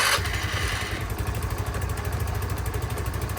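A repaired 125cc motorcycle engine fires up and settles into a fast, steady idle, its putter running continuously, close and loud throughout.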